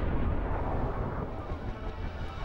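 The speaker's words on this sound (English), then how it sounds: "so let's say with that gunshot," A layered gunshot sound effect delivers a deep, booming blast with a heavy low-end rumble that sustains and slowly decays, heard alone without voices.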